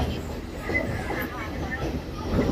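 Steady rumble and rattle inside a moving train on the Colombo to Kandy line in Sri Lanka, the carriage shaking hard, with continuous low clatter throughout and a voice talking over it.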